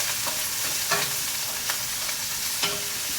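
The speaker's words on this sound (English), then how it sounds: "Get a little salt. And stir that up." Salt being stirred into onions in a hot pan while making mango chipotle chicken, a steady frying hiss with a few spoon scrapes and taps against the pan, no speech.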